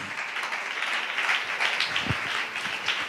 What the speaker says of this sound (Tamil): நல்ல கைத்தட்டி ஆண்டவருக்கு ஒரு நன்றி சொல்லுங்க